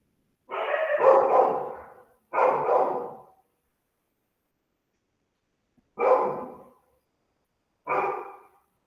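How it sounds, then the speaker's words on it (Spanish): A dog barks in four loud, close, drawn-out bursts separated by long silent gaps, with no talking underneath. "Más escucho tu perro, pero sí."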